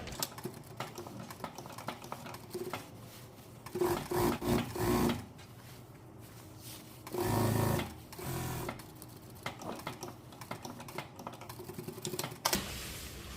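A sewing machine stitches a shirt collar in bursts of rapid mechanical chatter, a few short runs separated by pauses with quieter handling noise, heard up close without talk.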